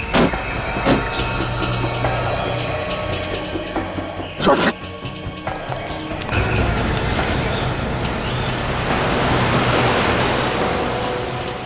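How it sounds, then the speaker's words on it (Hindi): A car being driven hard after a tire puncture gives a continuous, loud road and engine roar with broadband rushing noise and a few sharp clunks; no one talks. "गाड़ी तेज चला, तेज।"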